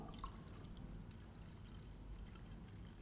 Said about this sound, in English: So if I now top that one up